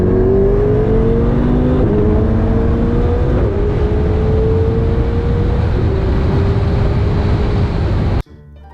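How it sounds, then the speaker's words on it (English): Loud, steady engine roar of a Ferrari 488 Spider and a C8 Corvette Z51 accelerating hard on a closed course, pitch climbing in long sweeps with brief drops between gears, continuous until a sudden cut near the end. "Let's see what happens when we take these cars out to a closed course to do a high-speed roll."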